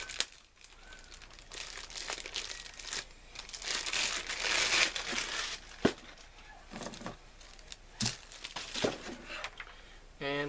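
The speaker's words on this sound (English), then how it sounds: "Let's go ahead and get this cord unwrapped." Plastic packaging crinkled and torn while a cord for an LG SK1 sound bar is unwrapped, with steady close crackling and a few sharper rips throughout.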